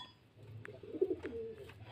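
Murshidabad deshi giribaj pigeons give a soft, low coo in a short burst, faint and close against quiet background noise.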